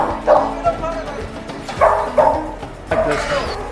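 Dogs in a shelter quarantine section bark and yip in repeated clusters, fairly close and loud, with voices talking underneath.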